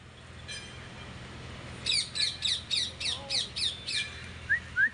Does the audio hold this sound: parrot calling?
yes